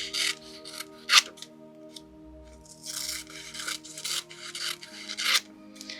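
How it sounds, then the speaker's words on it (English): Scissors snip through thin magazine paper, cutting skinny strips in a handful of close, crisp rasping strokes spaced unevenly, with faint rustling of the page between cuts. "So I'm going to cut just skinny strips."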